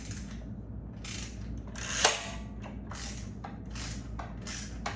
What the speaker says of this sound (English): So let's see if we can get this bolt out and break it loose.